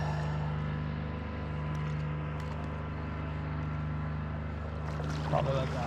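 A small motorboat passing on the North Saskatchewan River near the old Laird Ferry Landing, a steady low engine drone with a faint water pump humming alongside and brief splashes near the end.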